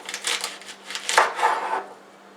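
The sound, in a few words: knife chopping celery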